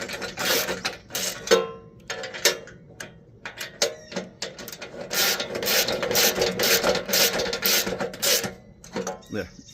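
Nuts being snugged down on a Woodland Mills HM130Max sawmill track assembly: irregular rasping, clicking wrench and metal-on-wood rubbing strokes, close by, in uneven bursts with brief pauses.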